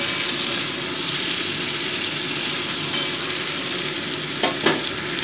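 Cauliflower pieces fry in hot oil in a pan with a steady, dense sizzle, broken by a few brief clinks and scrapes near the end.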